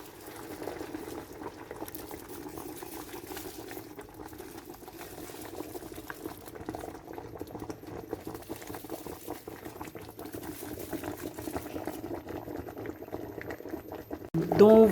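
Steady low bubbling and rumbling of water boiling in a pot for steaming fish wrapped in banana leaves, continuous throughout with a louder burst right at the end.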